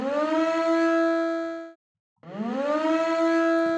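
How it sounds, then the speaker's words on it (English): A pitched-up, sped-up civil defense siren sample in a metal music mix, loud and sustained with a steady harmonic wail, cutting out briefly before swelling back in with a rising pitch. "First I found a Siren sample,"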